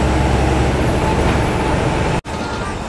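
An MSRTC ST bus rolls onto the new Bhayander bridge with a constant loud engine and road roar, close by, briefly cut off near the end before the roar resumes.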